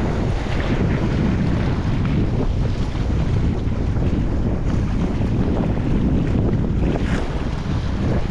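Strong wind buffets the microphone with a steady, loud rumble while shore fishing, mixed with the wash of water and waves nearby.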